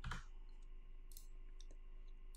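Mouse clicks while duplicating code blocks in Scratch 3.0 on a computer: a sharp click at the start, then a few faint, scattered clicks over a quiet background hum.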